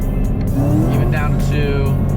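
A Camaro ZL1 with a 10-speed transmission runs through downshifts, its engine note rising and falling in quick steps, loud and close from inside the cabin beneath a voice.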